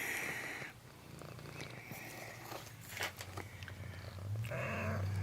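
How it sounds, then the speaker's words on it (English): A mother cat with her kittens purrs close by with a low steady rumble, while faint soft movement and scattered small sounds come through the background. "Here's a look at all the kittens without the mother there, because she's eating."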